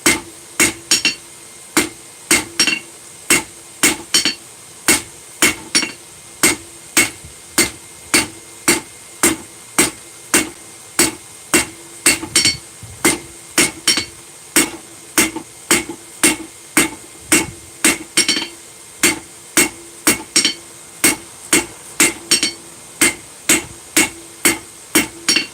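Hammer blows forging a taper on a steel nail set, sharp ringing metallic strikes on an anvil in a steady rhythm, several dozen in a row with short pauses between bursts.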